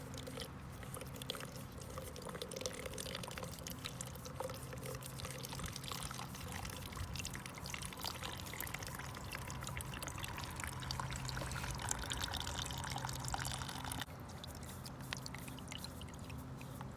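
Diesel fuel pours out of a Volkswagen TDI fuel filter into a container in a soft, continuous trickle with faint splashy crackles. It is quiet and close, and no one speaks.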